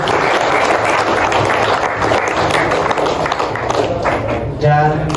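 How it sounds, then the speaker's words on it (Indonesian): Indonesian seminar audience applauding for a student association during a KKN (community service) talk, a steady dense wash of clapping lasting throughout, with voices mixed into the crowd noise. "Tepuk tangan untuk HMPS kalian ya."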